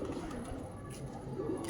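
Punjabi pigeons at a breeder's loft coo softly and continuously, a low steady murmur of several birds close by with no talk over them.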